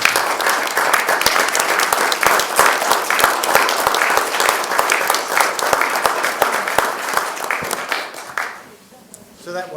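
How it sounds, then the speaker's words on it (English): A room full of people at a city meeting giving a sustained round of applause, dense steady clapping for about nine seconds before it tapers off, with some voices mixed in. "And a round of applause."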